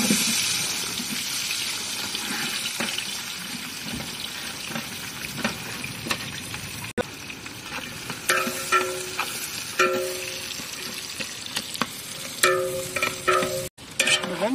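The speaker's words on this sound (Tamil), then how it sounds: "வெங்காயத்தை பொன்னிறமா வர வரைக்கும் வதக்கலாம்." Onions with cinnamon, cloves and cardamom sautéing in oil for stingray biryani: continuous sizzling crackle with intermittent stirring scrapes and clinks of a utensil against the pot, moderately close.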